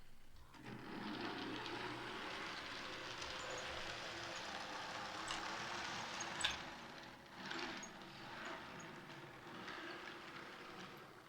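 A Dräger diesel fire-fighting train unit runs steadily into a tunnel, giving a continuous rumbling mechanical rattle with faint clicking, heard alone at moderate level.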